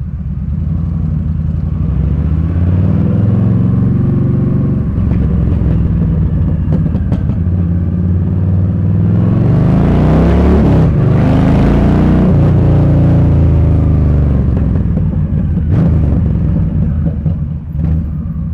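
Steady road traffic rumbles past at close range, with cars and motorcycles passing and a louder engine swelling through the middle before fading, no talking over it.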